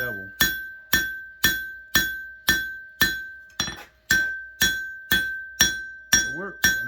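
A hammer striking hot metal against an anvil while reshaping a knife's choil and bevel, giving about a dozen bright, ringing clinks in a steady rhythm, each strike decaying with a sustained metallic ring, close and clear.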